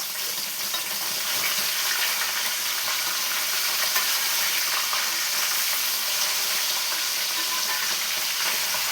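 Fish pieces sizzle steadily in hot oil in a pan, a continuous close frying hiss with faint scraping as the pieces are turned, no voices.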